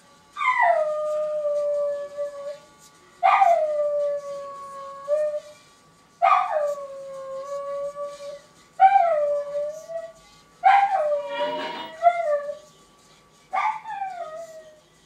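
A dog howls along with music from a Dansette G32 record player, giving six long, rising-then-falling howls spaced evenly, loud and close, with quiet gaps between them and no speech.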